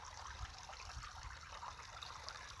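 Natural spring water at a Morecambe Bay campsite trickles and bubbles up through rocks, a soft steady burble heard faintly and alone.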